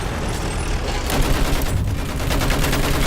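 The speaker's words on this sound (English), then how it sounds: "Throws a hand grenade at me." A hand grenade explodes near a tank in Battlefield 1, a loud rumbling blast with ongoing battle noise and gunfire, close and dense throughout.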